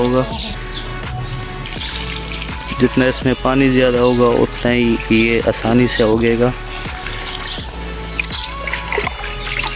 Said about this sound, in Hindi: ये हमने लगा दिया पानी, काफ़ी ढेर सारा पानी लगा दिया